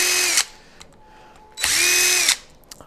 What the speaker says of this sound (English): And maybe this is the DeWalt Impact.